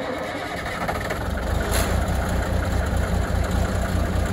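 A Mack Cruise-Liner truck's diesel engine, running on newly serviced injectors, settles into a steady rumbling idle with a rapid low knock. It is close and loud, with no talking.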